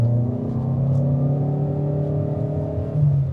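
Cabin view of an SUV engine revving, from the Skoda Kodiaq or Toyota Innova Hycross, with a steady low droning hum and a slight rise near the end, loud and close, no voices.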